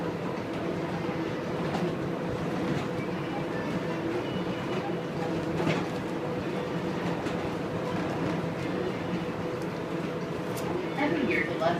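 Las Vegas monorail train running along the Strip, a steady low rumble of rail transport with faint clacks, continuous and moderately near throughout, with some background voices and a bird or two.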